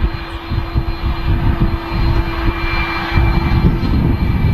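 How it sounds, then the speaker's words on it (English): Aer Lingus A330 airliner taxiing at Manchester Airport, a loud steady jet engine roar and whine heard close and continuous throughout, with no talk over it. "What is taxiing out right now? Something loud. Aer Lingus A330."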